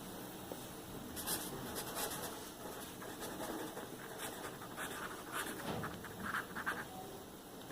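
Pen scratching on paper in quick, irregular strokes, close but faint over a steady background hiss, with no talking.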